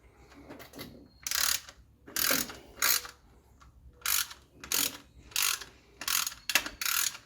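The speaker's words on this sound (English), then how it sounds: "I'm tightening it down till it's snug with one hand" A ratchet tightens valve cover bolts on a Chevy square body truck in repeated bursts of quick clicking, about eight short strokes with brief pauses between them, close and clear with no talking.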